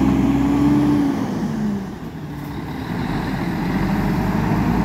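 A Eucatur G7 coach bus rumbles at the Tietê bus terminal in São Paulo, its engine tone sliding down as it moves off, dipping briefly before the low drone returns amid terminal background noise.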